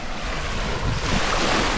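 Surf rolls onto White Beach at Puerto Galera in the Philippines in a continuous loud wash of waves, with heavy wind buffeting mixed in.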